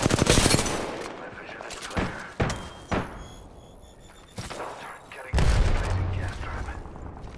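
Gunfire in Apex Legends, a dense burst of rapid shots at the start followed by single sharp blasts and thuds, then a quieter stretch before another loud burst near the end, with game voice lines mixed in.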